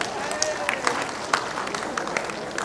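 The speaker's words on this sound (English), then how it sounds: "Clap, clap, clap, clap, clap." Audience clapping at a school leadership conference, a dense wash of many hands with scattered sharper claps standing out, steady and fairly loud for the whole stretch.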